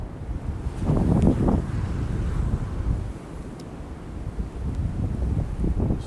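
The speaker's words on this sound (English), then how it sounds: "It's still kind of windy out." Wind gusting outdoors after a snowstorm beside a partly snow-covered driveway, a steady broadband rush with stronger buffeting near the start and again toward the end, close to the microphone and with no talking.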